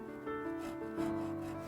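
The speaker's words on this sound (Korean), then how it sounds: "금강저의 곡선 부분까지 톱질하면서 선을 만드는데 이 과정은 곡선을 조각하기 위한 첫 단계이다." A hand saw cuts a curved wooden lattice pattern for a traditional Korean hanok window, giving two short rasping strokes in close succession, close and fairly quiet.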